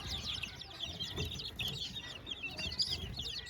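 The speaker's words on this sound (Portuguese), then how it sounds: "Aqui deve ter mais ou menos uns 30 pintinhos." A brooder of about thirty chicks on a farm, including bantam and Polish chicks, peeping constantly in high, overlapping chirps, fairly faint, with soft low clucking beneath.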